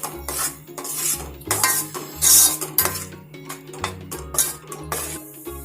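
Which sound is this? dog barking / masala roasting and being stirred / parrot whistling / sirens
masala roasting and being stirred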